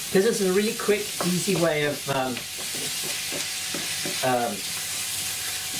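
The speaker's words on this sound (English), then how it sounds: "I'm just going to start to get the meat brown before I put in any sauce to it" Minced meat browning in a pan for spaghetti bolognese, a steady close sizzle with occasional stirring, running under a man's speech at the start and then continuing on its own.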